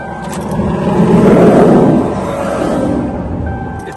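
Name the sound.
2003 Lincoln Town Car engine cranking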